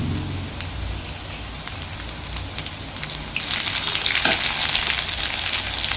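Dry vanjaram fish gravy fries in a pan with a constant crackling sizzle that grows noticeably louder and denser partway through, as if fresh ingredients have just gone in.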